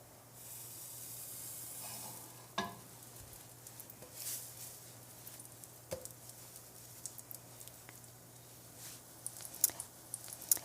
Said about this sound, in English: Let's get our bread in the skillet.